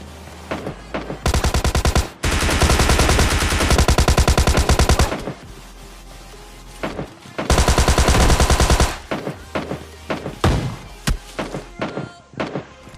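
Loud bursts of automatic gunfire in a PUBG Mobile Lite rooftop fight, two long sustained volleys separated by scattered single shots and thuds, with no talking.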